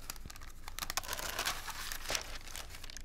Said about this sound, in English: Then I'm going to put my second piece of wax paper on.